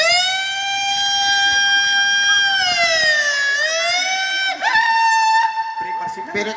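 A voice imitates a police car siren, holding a long rising and falling wail that bends sharply near the end, loud and close, with no other sound under it.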